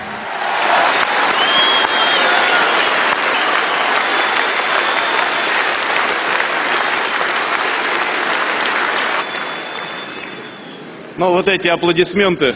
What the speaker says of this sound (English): This applause means I don't have to explain what kind of experience and authority Vladimir Putin has.